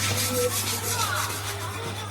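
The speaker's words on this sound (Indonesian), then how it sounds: "Nah, kita amplas-amplas di semua permukaan yang mau didembul." A plastic car bumper is sanded by hand with sandpaper, roughening the surface before patching. The sound is a continuous close scratchy rubbing with no pauses under a low steady hum.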